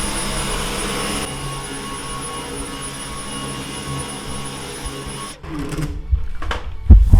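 A Dyson Cyclone V10 Animal cordless vacuum runs on a bare cement floor, a steady high whirring motor whine that cuts off near the end, followed by a few handling knocks.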